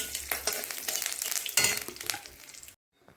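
Curry leaves hit hot oil in a tempering pan for dahi baingan and sizzle loudly and close, with a bright crackling hiss that surges midway, fades, and then stops abruptly into silence.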